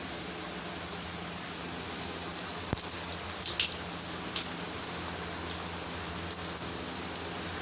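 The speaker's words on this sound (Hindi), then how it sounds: "तो अब हम इसमें फ्राई करने के लिए ऐसे डालेंगे," KFC-style chicken pieces sizzling steadily in hot oil, a dense, constant crackle with scattered sharper pops and one brief clink, fairly close and with no voices.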